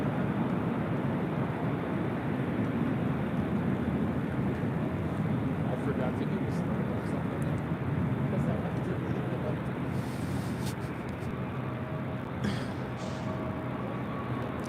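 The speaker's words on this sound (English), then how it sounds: "This is Spirit Airlines 947 coming in from Detroit on an A321neo." A Spirit Airlines A321neo arriving at LAX from Detroit makes a steady, moderately loud broadband engine rumble that continues throughout, mixed with wind and a few brief clicks.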